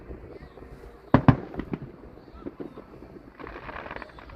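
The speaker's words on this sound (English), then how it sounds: "we're out here enjoying the fireworks" Fireworks bursting at an outdoor fireworks show: a pair of sharp, loud booms followed by several smaller pops and crackles, then a crackling shower near the end, with faint background voices.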